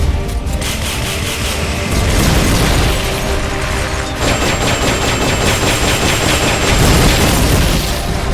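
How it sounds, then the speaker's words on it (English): Rocket launcher shots in the video game Metal Gear Solid: Peace Walker, a dense run of loud booming bursts and crackling blasts with rapid gunfire-like pops layered over a constant rumbling battle din, no voices. "Firing rocket launcher."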